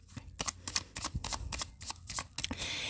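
Tarot cards shuffled by hand in rapid riffling bursts, close and crisp, a steady rhythmic flutter of card edges with no talking.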